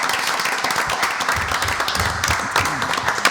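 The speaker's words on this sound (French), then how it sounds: "Je pense qu'on peut se donner une belle main d'applaudissements quand même pour ça." Audience applause at the Amqui city council meeting, a room full of people clapping steadily with scattered louder claps and faint voices underneath.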